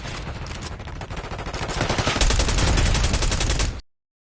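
Rapid automatic gunfire in a shooting video game, bursts that run together into continuous loud fire and grow heavier toward the end before cutting out abruptly.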